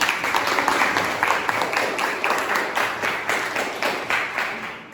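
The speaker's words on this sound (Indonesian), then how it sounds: "Kasih tepuk tangan." A classroom group gives a round of hand claps after a presentation at a teacher training session, with dense, steady clapping close by that tapers off toward the end.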